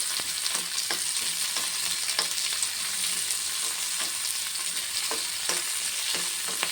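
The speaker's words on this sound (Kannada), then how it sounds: "ಒಂದು 4 ಎಸಳು ಬೆಳ್ಳುಳ್ಳಿ, ಸ್ವಲ್ಪ ಕರಿಬೇವು ಸೊಪ್ಪು, ಇಷ್ಟು ಸ್ವಲ್ಪ ಫ್ರೈ ಆಗಲಿ." Garlic cloves and curry leaves frying in oil for a red chutney make a steady bright sizzle with light, regular scraping taps of a stirring spoon against the pan, close and unaccompanied by speech.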